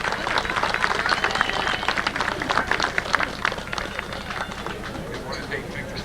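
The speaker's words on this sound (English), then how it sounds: "What do you say we give him another round of applause?" Crowd applause at a small-town Old Home Day celebration honoring the King and Queen, dense steady clapping from a nearby audience sustained throughout, tapering slightly toward the end.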